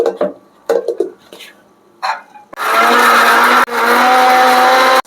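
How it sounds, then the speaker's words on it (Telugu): A kitchen mixer grinder whirs loudly for a few seconds, blending a masala paste with coriander leaves for Mughlai egg curry, after some brief clatter of the jar and lid. "ఇప్పుడైతే మిక్సీ పేస్ట్ చేసి చూపిస్తాను మీకు."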